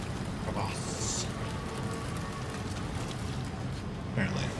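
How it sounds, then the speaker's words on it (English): Steady rain hiss from the video game Death Stranding 2, a broad even wash of falling rain with faint scattered sounds on top. "But it's still raining"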